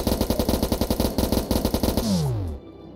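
Rapid automatic gunfire from the game Starbound rattles in a fast, steady burst, then cuts off into a descending whine and fading tail.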